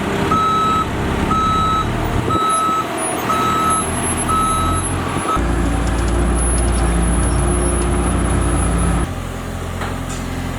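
A forklift lifting a heavy vintage Stanko 1a616 lathe sounds its reversing alarm, a loud, evenly spaced series of beeps, over a rough diesel engine drone that deepens and strains midway.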